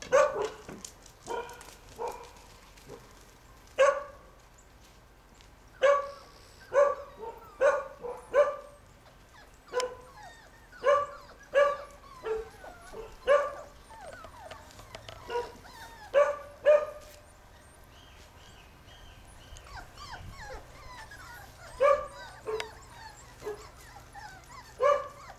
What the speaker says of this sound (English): Why is everybody barking?